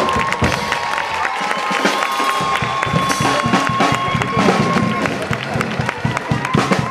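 A crowd at a drum-corps gathering in Granollers claps and cheers loudly, with sharp bursts of clapping, shouts and some voices mixed through a busy, sustained roar.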